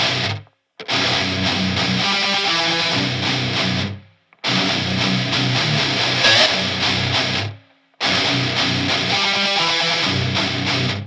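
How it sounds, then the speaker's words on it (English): Distorted guitars in a full rock mix with MaxxBass adding low-end harmonics, played as three loud dense passages split by short silent gaps. "it brings the harmonics of the low end into the mix, and it sounds like this"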